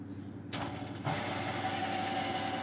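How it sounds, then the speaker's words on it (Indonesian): A servo motor on a Singer sewing machine switches on and runs at around 800 rpm, a faint steady hum with a thin whine that begins abruptly and holds at an even level. "Kita coba nyalakan mesinnya."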